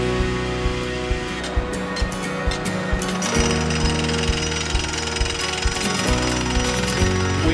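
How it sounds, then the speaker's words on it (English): A hand-operated drill pounds continuously and loudly as it pins logs to a stream bottom during a conservancy habitat project, giving a rapid, jackhammer-like rattle with no pauses. "are manually drilling and pinning the logs into place to secure them to the stream bottom"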